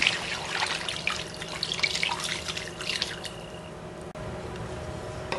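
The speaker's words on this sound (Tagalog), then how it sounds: "and water enough to cover yung ating beef" Water pours from a tap or container into a pot of beef with soy sauce, pepper and a stock cube, a steady splashing, trickling stream close by with no talk.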